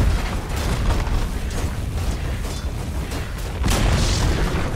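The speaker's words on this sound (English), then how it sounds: "Dire's bottom tower has fallen." An enemy tower collapsing in Dota 2, heard as a dense, booming game explosion with rumbling low end that swells again near the end, over continuous game audio.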